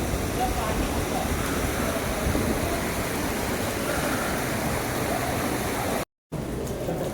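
Water flows steadily at the Kedareshwar cave temple on Harishchandragad, a constant close rushing wash that fills the whole stretch, broken by a brief dropout near the end.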